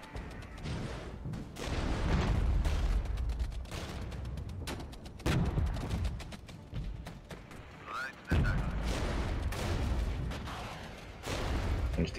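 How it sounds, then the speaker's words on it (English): Artillery strike explosions in a strategy war video game, with repeated booms and thuds in a dense barrage over rumbling battle noise, while a voice talks over parts of it. "Artillery strike."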